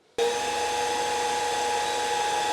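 A drill bores through a thick boat hull while a Lowrance HDS Carbon 9 fish finder is fitted to a Bonafide XTR130 boat. It starts suddenly and holds a loud, steady, high-pitched whine throughout, with no talk.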